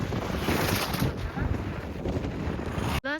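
Cold wind blows in Ladakh and buffets the microphone with a loud, steady roaring rush that never lets up. A sharp break comes just before the end, followed by a brief voice.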